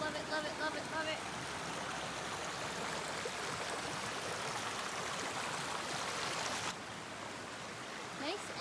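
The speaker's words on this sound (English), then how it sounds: "Sounds like we're coming up to water." A clear, noisy river rushes along a forest trail, a steady close wash of flowing water that continues unbroken throughout.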